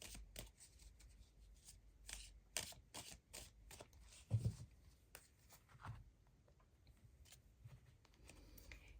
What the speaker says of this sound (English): let's get you two more cards from the Forest Fae